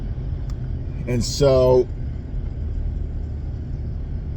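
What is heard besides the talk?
car driving, heard from inside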